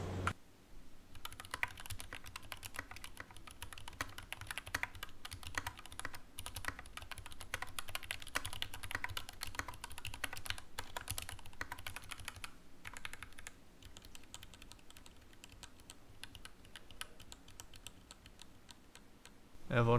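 Mechanical keyboard with switches lubed using Durex Play Massage 2-in-1, typed on in a rapid, dense stream of soft clacks, fairly quiet and close, continuous for the whole stretch with no talking.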